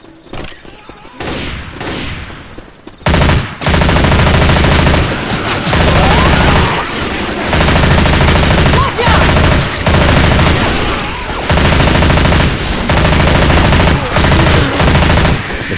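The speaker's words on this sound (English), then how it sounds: "Machine gun." Heavy machine gun fire in the zombie shooter Left 4 Dead 2 (Dark Carnival campaign), loud sustained bursts repeating in rapid chattering runs with short gaps, mixed with other gunfire and booms, after a quieter opening few seconds.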